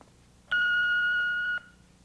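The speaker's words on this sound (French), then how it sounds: "vous pouvez laisser un message après le bip" A single clear electronic answering machine beep, steady in pitch and lasting about a second, sounds on its own against near silence.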